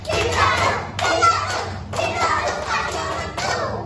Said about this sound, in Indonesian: Mari bertepuk tangan.